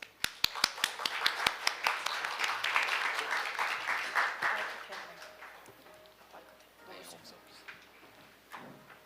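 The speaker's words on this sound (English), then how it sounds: "Please welcome them with a big round of applause." Applause welcoming panelists at an international forum on ship biofouling starts as a few sharp, separate claps, swells into full room clapping, then fades away as voices and shuffling on stage take over.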